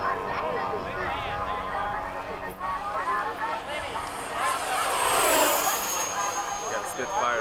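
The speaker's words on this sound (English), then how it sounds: "Got a Spitfire above you." A model Spitfire flies overhead at an RC airfield, its engine buzzing steadily at moderate distance and swelling in a clear pass, with people talking nearby throughout.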